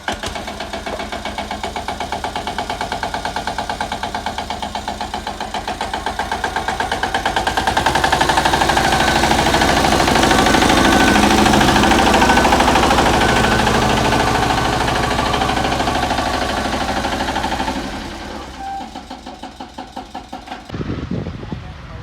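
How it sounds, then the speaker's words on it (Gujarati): A farm tractor's engine idles with a steady, loud knocking chug while being parked, swelling in the middle and then dropping off near the end. "આ ટ્રેક્ટર છે અહીંયા મેલવાનું, પાર્કિંગ કરવાનું"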